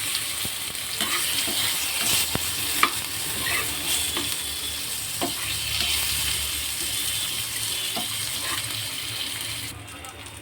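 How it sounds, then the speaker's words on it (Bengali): Onions and green chilies fry in a pan with a steady, bright sizzle, punctuated by occasional stirring scrapes; the frying continues throughout without a pause. "পেঁয়াজগুলো লাল লাল করে ভাজা হয়ে গেছে"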